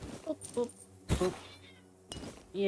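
A cat meows several times in short, separate calls over a faint room background, the last one loud and close.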